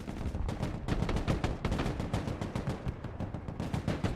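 Automatic weapons fire down on a building in the real-time strategy wargame Broken Arrow. Rapid, dense bursts of gunfire go on almost without a break, loud and close, with short gaps between the volleys.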